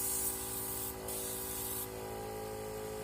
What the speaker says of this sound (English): spray that out.